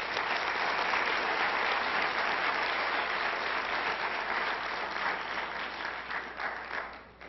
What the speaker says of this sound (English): will you please give these folks a warm welcome of applause.